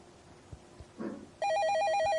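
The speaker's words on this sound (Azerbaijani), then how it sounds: "Yenə telefon çalır." A telephone in the horror video game Night Shift: The Last Call starts ringing abruptly after a few soft thumps and a faint voice, its loud, repeating electronic trill pulsing steadily to the end.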